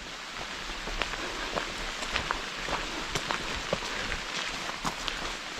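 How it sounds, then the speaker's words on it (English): Steady rain falls continuously, a dense hiss with scattered sharper drop impacts throughout, no voices. "Yeah, we're getting pretty good rain."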